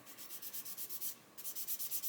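Sandpaper rubs back and forth along the chassis rail of a model car kit in a steady rhythm of soft, raspy strokes, quiet and close, with a brief pause partway through.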